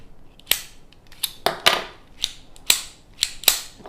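A Belgian FN 1922 pistol being handled, its magazine seated and action worked in a run of sharp, close metallic clicks and clacks, about eight distinct snaps at an uneven rhythm with quiet gaps between.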